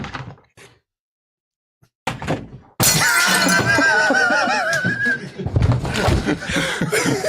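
A glass plate smashes with a sharp loud crash and a spray of shattering shards, then chaotic laughter and shouting from several people follows right over the debris.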